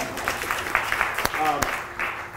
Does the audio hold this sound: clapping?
yes